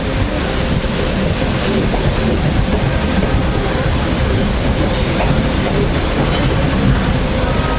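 A train rolls past on the railway beside beach houses in Panadura, Sri Lanka. It makes a loud, continuous rumble with rattling wheel noise and a brief high squeal near the end.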